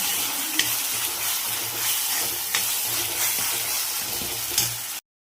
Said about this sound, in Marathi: आता वाटण पण छान परतून घेते मी.